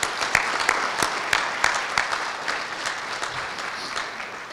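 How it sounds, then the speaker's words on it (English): An audience applauds at a constitutional cases conference welcome session, with a moderate room of clapping where individual sharp claps stand out, gradually thinning over a few seconds. "join me in a round of applause thanking all of them for getting us started"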